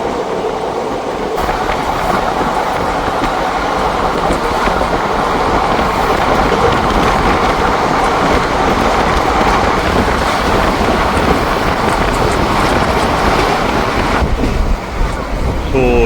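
Passenger train 54551 runs at speed between Ambala Cantt and Bathinda Junction, heard from inside as a loud, steady roar with rhythmic clatter of wheels on rails throughout.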